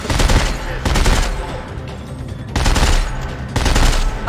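Gunfire in Dead Space 3 comes in loud bursts of rapid automatic fire, several separate volleys with short gaps between them.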